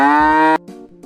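A cow moos once on a farm, a loud, close, drawn-out call, followed by a fainter, shorter lowing sound.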